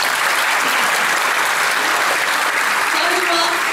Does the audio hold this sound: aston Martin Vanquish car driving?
no